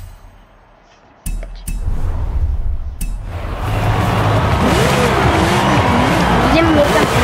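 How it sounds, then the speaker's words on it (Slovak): A car engine in the racing game Forza Horizon 5 revs loudly, its pitch sweeping up and down alongside tire squeal and broadband road noise, after a few sharp clicks and a quieter opening stretch. "dám si silnejšie zvuky, aby ste počuli ten motor."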